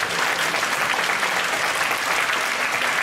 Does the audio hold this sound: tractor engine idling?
no